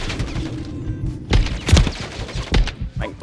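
Gunfire in a Gun Game video game match, with several sharp, heavy shots in quick irregular succession over a busy low background of game noise.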